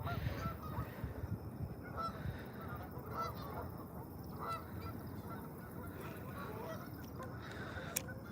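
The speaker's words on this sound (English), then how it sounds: "These geese they were talking on my way out here, and they still are" Geese honking outdoors on a fishing outing, a loose chorus of repeated honks at middle distance over steady open-air background noise.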